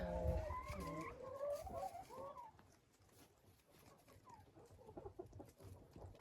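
Hens in a winter chicken coop cluck and murmur close by: a clear burst of drawn-out calls at first, then softer scattered clucks, with faint rustling.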